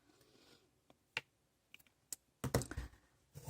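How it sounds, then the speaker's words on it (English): Scissors snip through crochet yarn at the end of a round on a hexagon trivet, giving a few sharp, close clicks and a short crunchy burst, with quiet pauses between. "cut the yarn"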